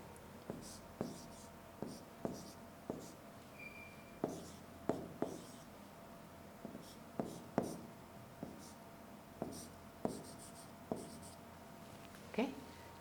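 A chemistry diagram of a tetrahedral intermediate is drawn by hand, with soft pen or chalk taps and short scratchy strokes in an uneven rhythm, close and quiet, plus a faint murmur of voice.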